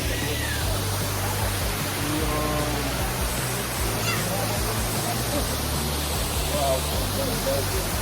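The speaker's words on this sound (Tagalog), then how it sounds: "Eto na yung falls." Aliw Falls in Luciana, Laguna pours as a dense, constant rushing roar of falling water, loud and close, with people's voices and chatter faintly woven in beneath it.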